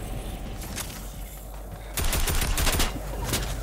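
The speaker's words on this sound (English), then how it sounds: "Damn, they're all shooting together" Several players in Fortnite fire guns together in dense bursts of overlapping shots, with sharp clusters of rapid gunfire that grow heavier partway through, close and loud.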